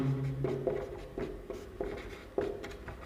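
Chalk or marker scratching on a board during a maths lesson, a few short strokes in an irregular rhythm, fairly close and clear.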